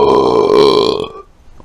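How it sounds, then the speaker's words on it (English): A loud, close burp after a swig of Vimto fizzy drink rumbles for about a second in a workshop shed, then fades to quiet. "I'm going to burp because I've just had a swig of Vimto"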